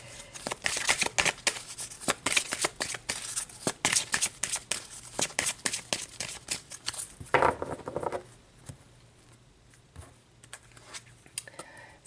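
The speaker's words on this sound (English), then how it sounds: "let's pull some outcome advice cards" Tarot cards are shuffled close by in a quick run of soft, papery flicks and riffles, then things settle into quiet handling.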